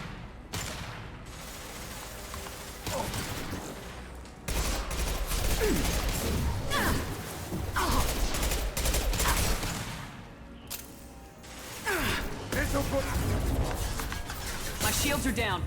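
SMG fire in Mass Effect 2 on Insanity difficulty comes through as loud, sustained bursts of rapid gunfire in several long stretches, mixed with combat noise and occasional talk.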